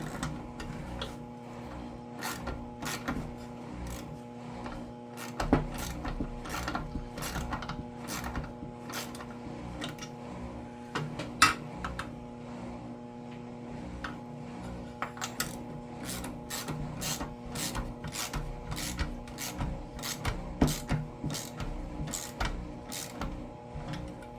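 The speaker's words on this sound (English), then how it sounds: "So you'll want to use a deep socket." A ratchet with a deep socket works on the fan of a 1971 Chevy C20 truck, giving a long run of sharp, evenly spaced clicks in bursts, close and fairly faint, with no talk.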